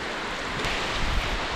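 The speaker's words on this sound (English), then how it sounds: "you realize how fast the water runs through this canyon" Fast water rushing through the canyon at Siikakoski rapids in Ruunaa, Finland, heard from a bridge as a steady, dense roar of whitewater with a constant broadband hiss.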